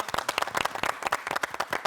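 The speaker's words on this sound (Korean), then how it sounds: "오늘 박수 치면서 마무리하면 어떨까 싶습니다" Audience applause at the close of a Korean panel talk on regional settlement and population decline, a brisk burst of many hands clapping, fairly close and with no talk over it.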